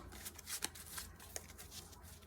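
A deck of cards being given a quick shuffle, quiet riffling flutters in a few short bursts, close and soft with no talking.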